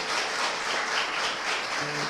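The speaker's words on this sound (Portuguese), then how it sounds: "Por isso eu quero uma salva de palmas para essas mulheres também." A large audience gives a full round of applause, a thick, continuous wash of clapping at steady loudness, heard alone.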